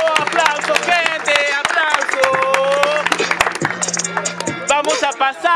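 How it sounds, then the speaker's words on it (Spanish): A crowd at an outdoor street rap battle in a market claps and shouts, with sharp handclaps mixed into loud overlapping voices and cheering. "¡Aplauso, gente!"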